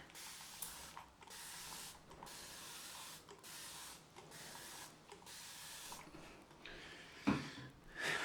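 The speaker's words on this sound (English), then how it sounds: "So I'm going to spray the old face" A spray bottle of water misted onto a face before a citrus wet shave, a series of soft, evenly spaced hissing pumps close to the microphone in a quiet room, ending with a faint rustle.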